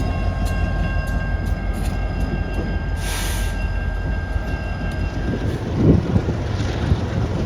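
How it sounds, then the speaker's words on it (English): A P&L gas and electric freight train rolls past as the DPU, a steady continuous rumble with wheel and rail noise, heavy wind buffeting the microphone and a brief hiss midway. "comes today's DPU on the little gas and electric train"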